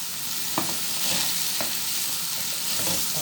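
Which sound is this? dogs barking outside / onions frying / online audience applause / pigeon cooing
onions frying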